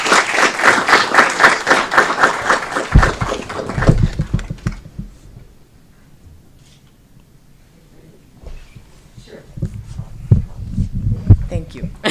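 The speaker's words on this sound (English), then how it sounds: "Big round of applause for Ms. Karen Christensen." An audience at an Aurora city Committee of the Whole meeting breaks into loud, dense applause for about four seconds, which then fades into a quiet room, and a voice speaks near the end.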